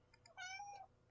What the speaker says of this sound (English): Yes, that is my cat, Tess.